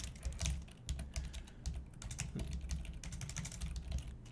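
Fingers type on a computer keyboard while coding in a Lua IDE, a quick irregular patter of key clicks close to the mic, fairly quiet and uninterrupted by speech.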